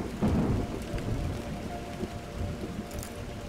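Rain pours in the PC video game Montague's Mount, a steady close hiss of downpour with a deep roll of thunder near the start, under a faint high chime.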